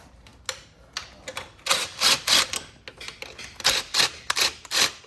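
A power tool backs out 8 mm bolts on a Vitacci Rocket in a string of short, sharp bursts. The bursts come close and loud, in an uneven rhythm of quick blasts.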